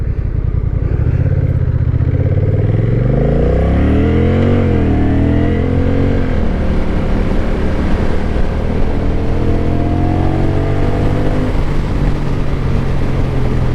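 A Honda Rebel DCT motorcycle engine drones loudly and steadily, its pitch climbing and dropping as it revs up and shifts, then holding a steady cruise hum mixed with wind rush.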